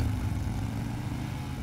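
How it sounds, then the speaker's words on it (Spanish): A motorcycle engine in the video game Beyond Two Souls, a steady low rumbling idle drone held throughout at moderate loudness, with no talking over it. "mirá cómo suena esa moto"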